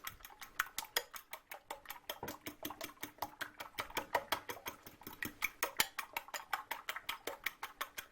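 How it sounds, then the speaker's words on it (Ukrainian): Eggs being beaten in a bowl for bean patties make a fast, steady clicking of a utensil against the bowl, quiet and close, repeating rhythmically throughout with no voices. "Тому що, якщо добре зіб'єте яйця, потім будуть у вас м'якіші котлетки."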